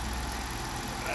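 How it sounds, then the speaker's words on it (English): A BMW N62 V8 engine idles at a steady, even rumble, close by and unchanging for the whole moment. "the engine is running fine"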